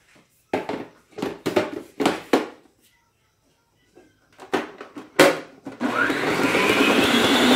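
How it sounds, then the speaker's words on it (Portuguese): An electric stand mixer beating donut dough: a few close knocks and bumps of handling, then the motor whirs up and runs on steadily and loudly. "agora eu vou pôr minha batedeira para trabalhar um pouquinho para mim"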